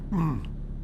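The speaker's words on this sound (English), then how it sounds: "let me clear my throat out" A man clears his throat once, close to the microphone, in a short rough burst during a casual gaming livestream.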